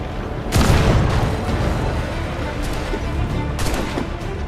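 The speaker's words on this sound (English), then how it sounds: "since this is a smaller ship, the swivel gun is very efficient" A swivel gun fires on a small ship in Assassin's Creed 4: one loud, close blast with a rumbling tail, then a second boom later amid ongoing battle noise.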